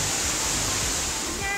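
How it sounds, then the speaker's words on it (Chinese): A small waterfall beside a mountain hiking trail gives a close, dense, steady rush of falling water that fills the short moment with broadband noise. "然后旁边都看得到那种小瀑布"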